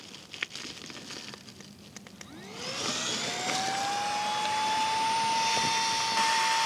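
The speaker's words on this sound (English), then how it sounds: "I'm just going to use the pump because I'm a big fat cheat" Electric air pump inflating a sleeping mat during a wild camp on a mountain summit, starting after a few soft rustles and then rising into a steady, loud, whining drone that holds to the end, with no talk.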